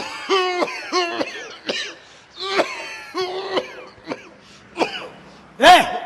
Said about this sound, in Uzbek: Bo'ldi, yo'talamiz hozir.